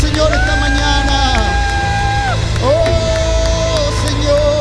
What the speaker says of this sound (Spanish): Dale un aplauso fuerte al Señor esta mañana.